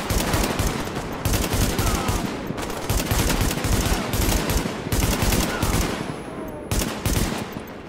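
Automatic weapon fire in The Division rattles in long, loud continuous bursts with brief gaps between them, the shooting near and dominant throughout.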